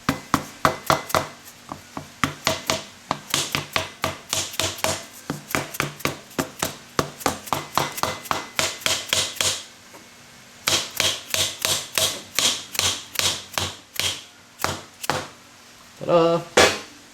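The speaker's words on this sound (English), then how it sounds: "We'll tap with a soft hammer." A soft hammer taps a seal with a Schrader valve into a Bilstein 7100 remote reservoir off-road shock during a rebuild: many rapid, sharp, close knocks in a steady rhythm, with a brief pause partway through.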